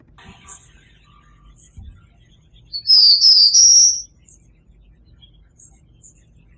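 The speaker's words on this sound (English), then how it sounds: "the grasshopper noise and the bird call noise are quite cleanly extracted from the original signal" A brief burst of high, bright bird chirps rises out of near silence, with faint scattered grasshopper ticks around it.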